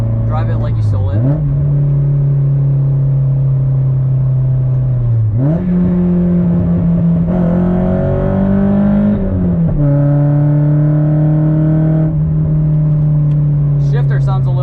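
A Nissan S14 engine rises and falls in pitch through a series of heel-toe downshifts, the revs blipping sharply between steady in-cabin drones, loud and close throughout.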